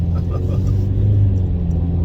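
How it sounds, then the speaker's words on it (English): Road traffic in a heavy jam gives a steady, loud low rumble of engines that runs unbroken and close by. "Oh my, look at this traffic."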